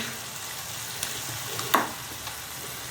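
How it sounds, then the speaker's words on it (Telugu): Ginger garlic paste fries in oil over high heat for a crab curry, a steady sizzle with a few sharp spits and crackles popping out, close and clear with no talking. "కొంచెం హైలో పెట్టి కొంచెం వేయించండి"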